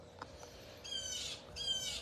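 Birds squawking in a neighbor's backyard trees, a few harsh calls rising over steady background ambience in two bursts, moderately distant.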